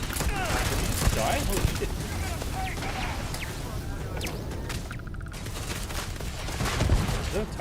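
Rapid turret gunfire in the video game Starfield, a steady dense barrage of shots running throughout at close range, with a player's excited voice speaking over it.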